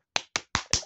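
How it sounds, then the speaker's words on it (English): Four sharp, separate hand claps land close to the microphone in quick succession in a quiet setting, each a crisp, dry slap. "You just clapped."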